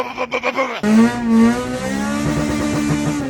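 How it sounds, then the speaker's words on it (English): A loud, raw Honda car engine with no exhaust revs hard with a harsh, unmuffled rasp, the pitch climbing and holding steady after a sharp start. "actually enjoy the no exhaust. It's a mad sound that's unique."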